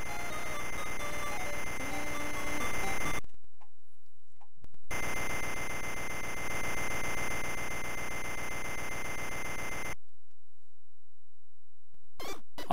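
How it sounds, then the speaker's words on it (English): An alarm clock in a Game Boy Advance hack game buzzes as a harsh, dense electronic drone that cuts out abruptly twice, leaving near silence before resuming, loud and alone. "Turn off the alarm clock."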